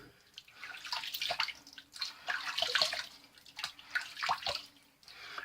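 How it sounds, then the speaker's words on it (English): Tap water running and splashing at a sink while a face is wetted before shaving, in irregular bursts of close splashes and trickles with brief pauses. "So let me wet my face again,"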